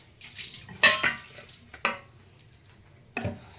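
Dry-roasted Byadgi chillies and coriander tipped into a pan for cabbage hulli and stirred, giving a few sharp close scrapes and clatters of spoon on metal between quiet gaps.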